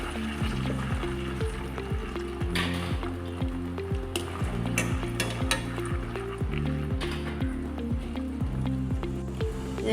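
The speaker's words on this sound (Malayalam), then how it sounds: "ഇത് നല്ലപോലെ മൊഴിഞ്ഞ് വരുന്നവരെ വറുത്ത് കൊടുക്കുക." Jackfruit chips fry in hot oil with a constant close bubbling sizzle, broken by repeated rhythmic clinks and scrapes of a ladle stirring the pan, no talking.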